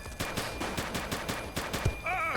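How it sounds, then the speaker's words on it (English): Video game gunshots in The Precinct, an 80s police simulator, come as a quick run of about eight sharp, fairly close reports with a short electronic tone near the end, no speech. "He's shooting!"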